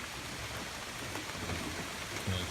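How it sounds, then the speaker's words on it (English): Steady rain falls outdoors at an off-grid homestead after high winds, a dense, even hiss of drops on surfaces heard close and continuous with no talk. "it's raining right now"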